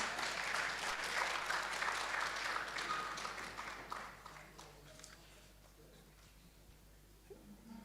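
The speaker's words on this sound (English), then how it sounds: "Yes, we can clap for him once more" An audience at a NARO director general handover ceremony applauds moderately for about four seconds, and the clapping then tapers off into quiet room noise.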